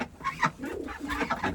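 Pigeons coo repeatedly at a loft on a freezing-cold day, a close, steady run of soft throaty calls filling the space with overlapping rhythmic coos.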